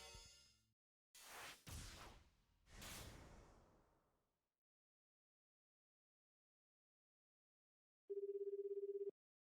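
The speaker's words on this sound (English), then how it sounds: "The phone rang several times. He listened grimly to the empty mechanical sound" A cell phone in the 428: Shibuya Scramble video game gives one steady electronic ring tone near the end, about a second long, after some whooshing sounds and a stretch of silence.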